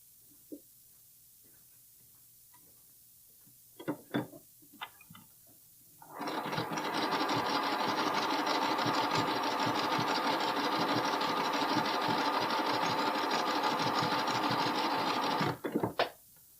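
A domestic sewing machine runs one long continuous stitching pass along a bralette seam, steady and close, preceded by a few short clicks and ending with brief handling taps.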